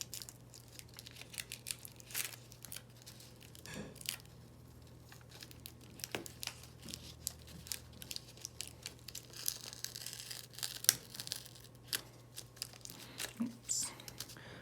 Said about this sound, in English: Just going to tape it down here.